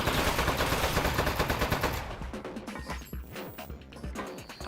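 A turret fires in the video game Desk Job. Loud, rapid bursts of gunfire come in a dense rattling stream, then thin into scattered, irregular shots.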